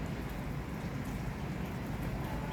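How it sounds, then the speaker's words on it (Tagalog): Steady rain falls with gusty wind, a continuous broadband hiss and patter at even loudness, no voices present. "So, nakikita nyo umuulan."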